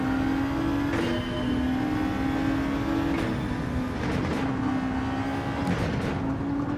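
A racing car's engine in a racing video game revs loud and steady through the whole stretch, with a sustained tonal drone and brief surges as gears shift, no voices over it.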